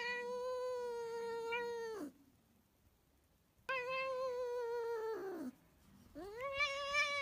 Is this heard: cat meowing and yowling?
yes